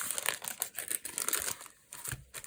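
Paper crinkles and rustles as an embroidery kit is slid back into its envelope, a close, continuous run of crackly handling noise with a couple of brief pauses and no talking.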